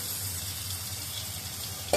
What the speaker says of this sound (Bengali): এবার মাছ মাথা সব একসাথে করে দিচ্ছি, তেলও আছে সাথে